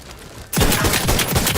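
A gun firing in Outer Worlds 2, a sudden loud burst of rapid shots that starts abruptly and carries on as a dense, close fusillade.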